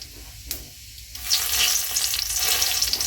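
Whole cumin seeds and dried chillies drop into hot oil and burst into a loud, close, crackling sizzle that holds steady after a couple of quiet clicks.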